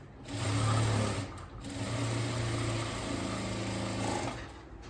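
A sewing machine stitches a topstitch along a blouse lining, running in steady bursts with a brief pause after the first second, close and alone.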